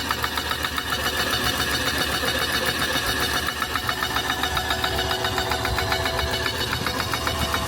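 An EA20HP machine runs steadily through a pressure water test, giving off a continuous loud mechanical drone with a fast rhythmic chatter that stays constant throughout.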